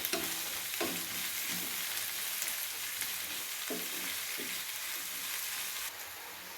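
Onions fry and sizzle steadily in a pan for a sago (sabbakki) uppittu, with a spoon stirring and scraping in periodic strokes; close and continuous, with no talking.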